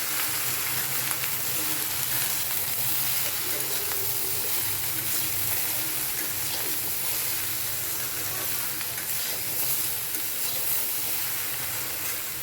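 Taro stolons with turmeric and salt stirred in a frying pan, giving a steady, even sizzle and hiss with faint scraping throughout, no voices.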